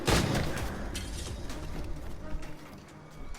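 Ship cannons opening fire in the video game Assassin's Creed Rogue, a dense burst of booming blasts at the start that trails into rumbling, crackling volleys with a player's voice talking over it.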